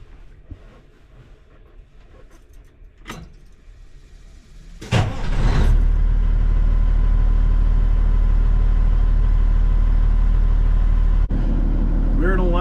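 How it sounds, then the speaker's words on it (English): Old 1976 truck with a fuel leak problem, a loud engine droning steadily as heard from inside the cab after a door clunk and startup, with a person talking. "We're in a loud truck now."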